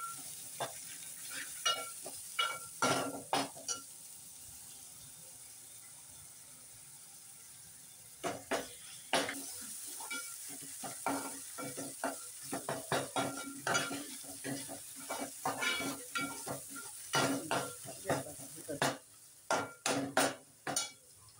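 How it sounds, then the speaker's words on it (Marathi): Onion-coconut masala paste for a spicy chicken masala frying in oil, with a steady soft sizzle beneath repeated close scraping and stirring strokes that come in bursts, pausing briefly before resuming. "आता हे आपण तेलामध्ये चांगलं तळून घेऊया।"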